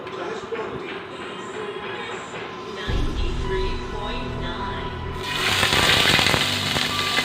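Cooking oil in a hot pan, a dense crackling sizzle that starts partway through and swells louder toward the end, close by with a steady background hum.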